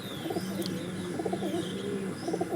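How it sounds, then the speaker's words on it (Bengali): Large pigeons coo in low, rolling repeated phrases close by, with soft chirps and a high bird call overhead, fairly quiet and without talk. "এগুলো সব জোরধারী পায়রা, বড় পায়রা, ঠিক আছে, এগুলো সব বড় পায়রা।"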